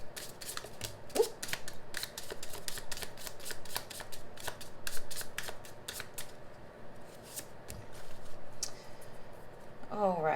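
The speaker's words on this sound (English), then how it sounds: "I'm going to do one more shuffle" Tarot cards are shuffled in repeated bursts of quick riffling clicks, close and crisp, with brief pauses between rounds.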